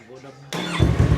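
A Yamaha big bike engine, just fitted with a lithium-ion battery, cranks and catches, rising into a loud, close, rough running roar that lasts to the end after a quiet start.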